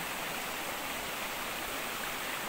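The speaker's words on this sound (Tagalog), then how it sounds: "May umaagos na tubig." Steady rushing water flows continuously at a pig farm, a broadband wash with no breaks, close and fairly loud throughout.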